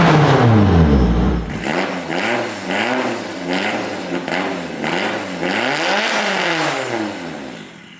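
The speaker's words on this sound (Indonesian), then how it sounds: "Kita gas sampai RPM 7000." A drift car with a straight-pipe exhaust revs hard toward 7000 RPM. The loud, raw engine note climbs and falls in repeated pulls, swelling to a final high rev up close, with no talking over it.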